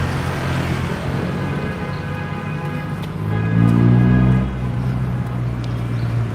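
Road traffic on a beachside street in My Khe drones steadily, with a nearby vehicle rumbling louder as it passes midway before the hum settles back to constant background noise.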